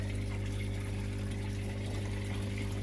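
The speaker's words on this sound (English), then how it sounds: "And there's the water coming out, coming around the back." Water pours out of a pipe in a home aquaponics system, a steady continuous rush with a low pump hum underneath, unbroken and fairly close throughout.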